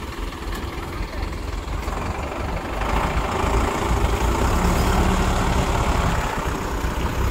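A Sonalika DI 55 tractor engine, 55 HP, laboring in a tractor tug-of-war, a loud, steady low diesel roar that swells slightly in strain midway, heard up close without talk.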